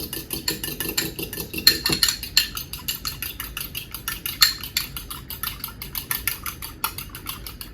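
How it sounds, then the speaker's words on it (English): An egg whisked with a fork or whisk in a bowl, rapid rhythmic metallic tapping and clicking, steady and close throughout, with no other sound. "And just whisk the egg."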